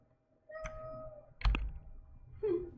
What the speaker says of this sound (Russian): Такой жалобный мяу